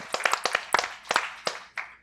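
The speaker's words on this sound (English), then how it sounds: "Can we have another round of applause for all these gentlemen?" Scattered applause from a small audience at a Korean War Armistice Day salute ceremony: a handful of sharp, uneven hand claps, close and fairly quiet, thinning out and fading after about two seconds.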